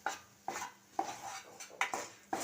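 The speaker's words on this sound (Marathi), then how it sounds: "आता हे गव्हाचं पीठ मध्यम आचेवरती आपल्याला सतत परतत राहायचं आहे" Wheat flour roasting in a pan over medium heat, stirred without pause: a series of distinct scraping strokes of a spoon against the pan, about one every half second, close and fairly quiet with no voices.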